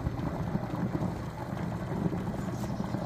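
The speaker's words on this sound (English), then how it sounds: "You can hear water pouring in the well." Steady, rushing water pouring down into a well, a continuous hollow rumble with no voices.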